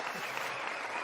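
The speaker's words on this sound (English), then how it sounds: "instead, we'll give you a nice applause" Brief, steady applause from a small studio crowd, a dense wash of clapping heard alone for about a second.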